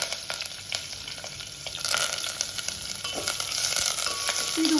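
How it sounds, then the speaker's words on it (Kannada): Cumin, mustard seeds, onion and curry leaves are tempered in hot oil for a raw mango tambuli, giving a close, steady sizzle with crackling pops and some stirring that grows louder toward the end, with no talk. "ಇದಕ್ಕೆ ಜೀರಿಗೆ, ಸಾಸಿವೆ ಹಾಕ್ತೇನೆ ನೋಡ್ರಿ ನಾನು. ಇದಕ್ಕೆ ಚಟಪಟ ಸಿಡಕತ್ತಾವಲ್ಲ"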